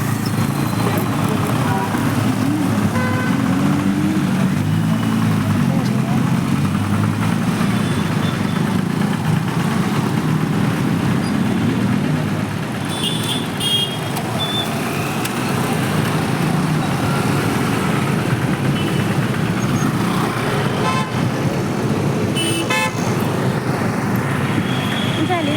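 Heavy road traffic on a crowded street, a dense, continuous roar of engines and idling vehicles that stays close and loud throughout, with a faint voice mixed in.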